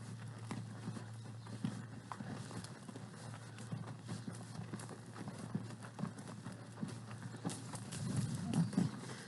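Several horses' hooves clip-clop on the ground during a ranch riding drill with troopers crossing over, a fairly faint, irregular patter of steps that grows busier near the end.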